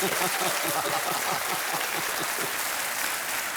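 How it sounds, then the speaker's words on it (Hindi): Studio audience on a television quiz show applauding steadily, a dense even wash of many hands clapping for a few seconds. "एकदम ताली बजा दीजिए हमारे ज्ञान को।"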